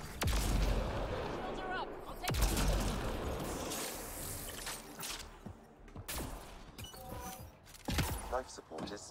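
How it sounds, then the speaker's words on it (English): Heavy video-game gunfire with loud booming artillery-like blasts and rapid shots, several sharp bursts spread across the clip, with a voice speaking at points between the explosions. "Stop shooting me, please."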